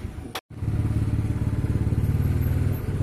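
A repaired Yamaha Mio scooter engine idles steadily and close by with a rough, pulsing rumble, preceded by a brief sharp burst and a short dropout.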